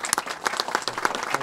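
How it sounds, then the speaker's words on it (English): Round of applause for Mayor Emanuel at a Tobacco 21 bill signing in Illinois: a brief burst of dense indoor clapping from a crowd, steady and moderately loud. "We all should give you an enormous round of applause."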